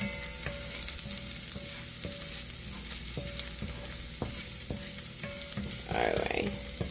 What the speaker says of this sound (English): not a lot of oil. Don't want them to burn or anything. I'm just sauteing it a little bit.